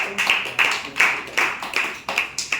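Audience clapping during a Ramayana quiz, about ten quick separate claps at close range, as from a small group.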